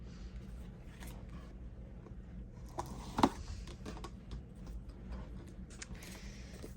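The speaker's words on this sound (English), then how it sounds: "So we cut it on that line" A paper envelope for cash stuffing is cut along a line, giving faint, close, crisp snips and scrapes with one sharper cut near the middle.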